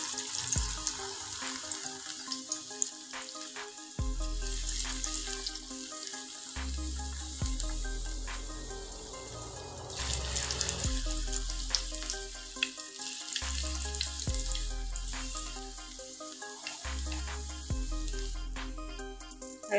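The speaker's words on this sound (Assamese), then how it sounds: "তেলখিনি গৰম হৈয়ে গৈছে, আৰু এতিয়া মই এই পকৰিখিনি এটা এটাকৈ ইয়াতে দি যাম।" Night jasmine flower pakoras sizzle in hot oil, a steady bubbling fry with soft scrapes and clinks from a utensil as pieces are added one by one.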